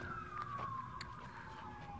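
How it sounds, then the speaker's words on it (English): An emergency vehicle siren heard during a night walk outdoors, one long wailing tone gliding slowly downward, faint and distant against low background rumble with no talking. "If you hear sirens in the background,"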